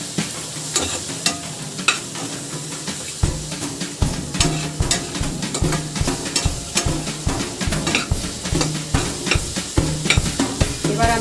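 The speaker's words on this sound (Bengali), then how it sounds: "আমি এর মধ্যে চিংড়ি মাছটা দিয়ে দিলাম।" Shrimp frying in a spice paste of oil that has separated, with a loud close sizzle and a busy, rhythmic run of spatula scrapes and stirs against the pan that starts a few seconds in.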